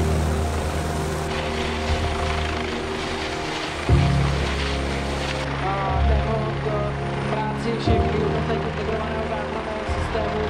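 Helicopter rotor and engine noise at a helicopter show during a rescue demonstration, a steady loud throbbing drone filling the scene while people talk over it.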